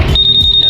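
A sharp high electronic beep from a Honda PCX160 scooter alarm, starting abruptly and holding as one steady piercing tone at close range.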